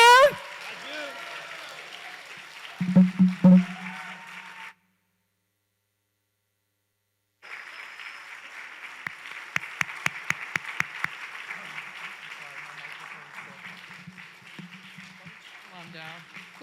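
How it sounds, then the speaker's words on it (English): A church congregation applauds a newly appointed pastor, with a spoken passage first, then a gap of silence, then a burst of clapping over a steady mains hum, with speech returning softly toward the end. "Let's give him a big round of applause, everyone."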